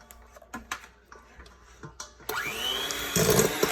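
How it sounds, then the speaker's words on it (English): An electric mixer creaming room-temperature butter and sugar in a big bowl: a few sharp taps and clicks, then the motor starts with a rising whir and runs as a loud steady buzzing drone. "we're going to start mixing our butter, our room temperature butter, and our sugar"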